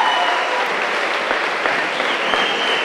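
Steady, dense applause from a large crowd, loud and continuous throughout with no pauses.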